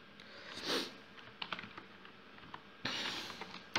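Typing on a computer keyboard while entering data in a spreadsheet: quiet, irregular key clicks and a few louder clustered presses, close to the microphone, with no talk.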